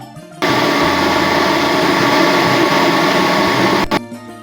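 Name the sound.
blender blending herbal ingredients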